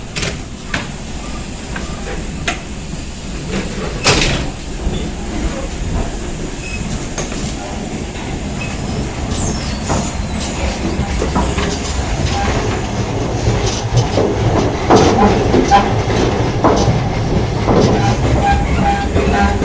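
A train rolls steadily along the tracks, with a continuous rumble, rattling carriages and occasional clicks and clanks growing slightly louder over time.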